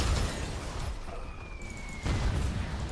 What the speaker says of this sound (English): I'm glad I avoided that explosion.